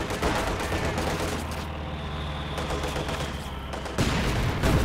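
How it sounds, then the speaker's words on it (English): Mortar fire striking units in the Company of Heroes 2 real-time strategy game: dense, loud bursts of explosions and rapid gunfire, a continuous battle din with a heavy blast near the end. "They're actually hitting me with a mortar"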